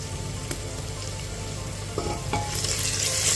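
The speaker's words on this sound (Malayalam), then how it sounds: "സവാളയും തക്കാളിയൊക്കെ നന്നായിട്ട് വഴറ്റിയെടുക്കുക" Onions and tomatoes sauté in a pan for mutton biryani, giving a continuous close sizzle with a few utensil clinks. Near the end the hiss swells brighter as stirring stirs up more steam.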